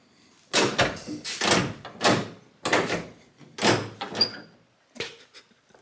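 A series of clunks and scrapes as a 1977 Camaro Z28 door is worked open and shifted repeatedly, close up, in uneven bursts with short pauses.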